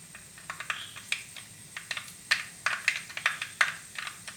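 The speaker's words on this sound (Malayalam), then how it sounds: "നമ്മുടെ കടുക് പൊട്ടി വരുന്നുണ്ട്." Mustard seeds pop in hot oil, a scatter of sharp, irregular crackles and snaps close up, some in quick clusters, over a quiet background with no talking.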